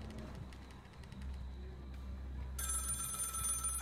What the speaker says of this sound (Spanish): Vamos a escuchar el teléfono.